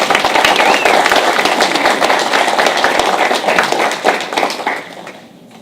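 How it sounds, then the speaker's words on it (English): Audience at a Henderson County Schools board meeting gives a round of applause, dense, fairly close clapping from many people that holds steady and then fades out near the end, with no talk over it. "Let's give them a round of applause."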